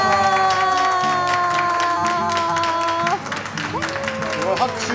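Audience applause and cheering from a crowd at a Japanese talk event with Niigata Albirex BC baseball player Aoki, steady and dense, under sustained musical tones, easing after a few seconds.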